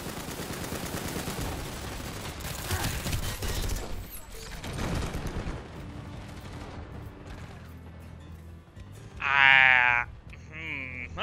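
Rapid gunfire in a Planetside 2 battle, bursts of shots crackling loudly through the first half and thinning out afterward, with a player talking over it and a brief electronic tone near the end.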